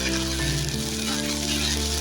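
Ginger garlic paste frying in hot oil gives a dense, loud, continuous sizzle close up, steady for the whole moment with no talking.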